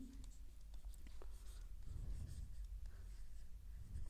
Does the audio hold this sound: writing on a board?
yes